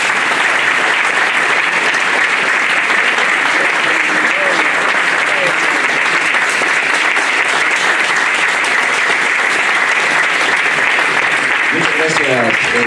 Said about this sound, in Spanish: le vuelvo a pedir un aplauso